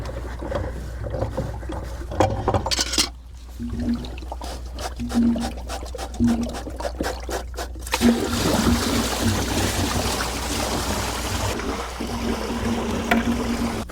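Water pouring out of a pool filter's drain plug after it is unscrewed with pliers, starting with clicks and small knocks, then a steady close gush and trickle that carries on to the end.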